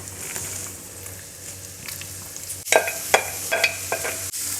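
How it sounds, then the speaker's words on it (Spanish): Chopped carrot, onion and celery sizzle gently in a splash of olive oil, a soft steady frying hiss with several sharper scraping stirs near the end. "Añadimos un chorro de aceite, a ser posible el de oliva, y añadimos las verduras."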